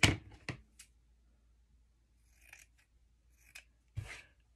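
Scissors snip through thick scrap paper in a quiet room: a few crisp, close cuts spaced out over several seconds, with faint rustling between them.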